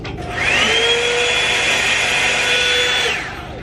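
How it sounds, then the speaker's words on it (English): A Revlon Root Booster hot air brush gives a loud, high-pitched hair dryer whine that spins up, blows steadily for a few seconds, then winds down. "the Revlon Root Booster is quite loud"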